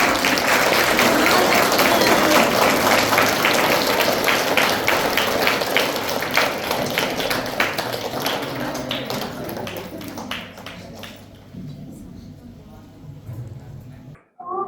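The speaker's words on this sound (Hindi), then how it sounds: "बच्चों से ताली बजाओ" Children clap loudly together at a Brahma Kumaris ashram opening ceremony in Lunkaransar, Rajasthan, a dense sustained burst of applause that gradually thins and fades out over several seconds.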